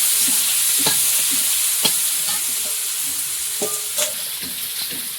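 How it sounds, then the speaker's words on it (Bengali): Chopped onion sizzles loudly in a pan alongside whole garam masala in an outdoor village kitchen, with steady frying hiss and irregular scraping strokes as it is stirred; no voices are heard. "পেঁয়াজ কুচিটা দেবো বড় আর রান্না হচ্ছে নাড়াচাড়া করতে খুব সুবিধা হবে"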